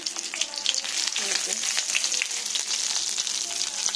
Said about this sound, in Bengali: অল্প তেল এটাকে ভেজে দিতে হবে